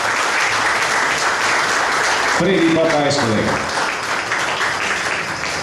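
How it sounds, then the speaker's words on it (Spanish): Audience applause at a Juegos Florales ceremony in La Democracia, Escuintla, honoring an award recipient, steady and close throughout, with a voice speaking over it midway. "reiterado el aplauso, por favor"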